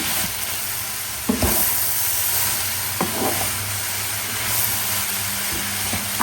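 Eggplant frying over a high flame in a home kitchen, a steady close sizzle with a few soft knocks of stirring and no talk.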